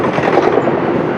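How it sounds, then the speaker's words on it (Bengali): A train passing near the Farakka barrage on the Ganges rumbles loudly and steadily, close by, with a continuous rolling clatter and no talk. "তোমরা দেখতেই পাচ্ছ ট্রেন একটা যাচ্ছে ফারাক্কা থেকে"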